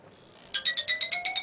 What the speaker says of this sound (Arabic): التليفون كيصوني